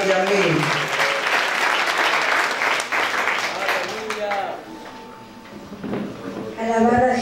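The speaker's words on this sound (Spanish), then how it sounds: "lo van a recibir con fuertes aplausos de esta tarde" A church congregation in Aguacatán bursts into loud, dense applause that runs steadily and then tapers off as a voice begins speaking.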